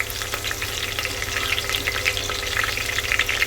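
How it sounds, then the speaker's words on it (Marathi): Curry leaves and green chilies frying in hot oil over low gas, a close, continuous crackling sizzle with sputtering pops throughout and no voices. "कढीपत्ता गॅस स्लो करून घेतलं हिरवी मिरची टाकली सोबत"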